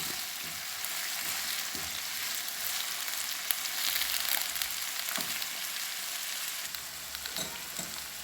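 Onions, green chillies and curry leaves fry in a pan with a steady, fairly soft sizzle, while occasional stirring scrapes and light taps of a spoon break through the close, continuous hiss.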